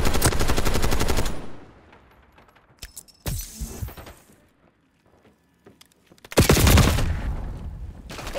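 Bursts of rapid automatic gunfire in the Black Ops 6 Kill Order mode, a loud rattling volley at the start, scattered single shots and clinks in a quiet middle, then another heavy burst near the end.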